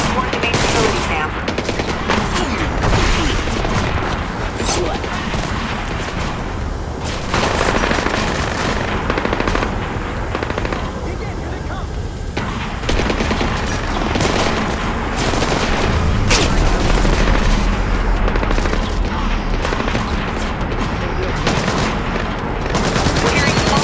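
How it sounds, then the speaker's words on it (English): Sustained small arms gunfire from a stealth action game, Splinter Cell Blacklist, set in an airport terminal: rapid automatic bursts and scattered shots rattle continuously and loudly for the whole stretch, with booming impacts mixed in and no pause. "We're hearing small arms fire in the terminal, Sam."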